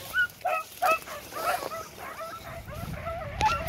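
A dog barks in short, sharp yips, three quick ones up front, then whining, whimpery barks continuing at moderate distance.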